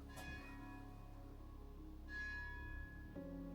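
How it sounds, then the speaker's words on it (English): Faint, distant church bells ring softly in an Italian town, a few tones sustaining and overlapping against a quiet background. "Can you hear the church bells?"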